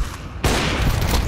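Rapid automatic gunfire in Counter Strike 2, erupting abruptly after a quiet moment and continuing as a dense, loud burst of shots for about a second.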